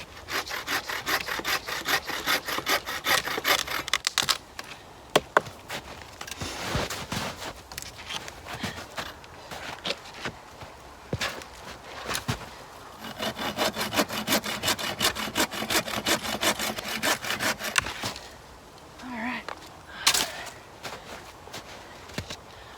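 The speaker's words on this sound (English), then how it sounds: "Number 3 just needs a few things sawed off here." Hand saw cutting through wood for a bushcraft shelter, rapid rhythmic back-and-forth strokes in several long bursts with brief pauses between, close and fairly loud, with no talking.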